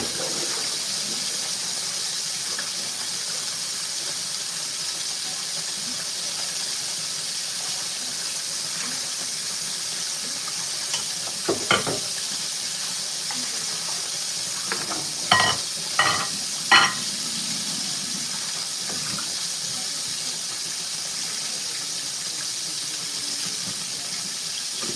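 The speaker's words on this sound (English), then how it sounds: "frying that chicken" Chicken fries in a fryer, the hot oil sizzling in a steady, even hiss throughout, broken by a few brief knocks and clatters midway.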